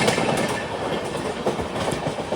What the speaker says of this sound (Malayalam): ട്രെയിൻ ഇപ്പോൾ ലളിത്പൂർ റെയിൽവേ സ്റ്റേഷൻ പിന്നിടുകയാണ്